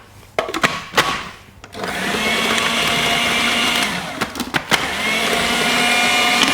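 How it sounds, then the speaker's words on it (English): Electric whisk mixing almond flour, sugar and unsalted butter in a bowl: a few knocks and taps first, then a loud, steady motor whir close by with brief clatters partway through. "And we're going to whisk this up."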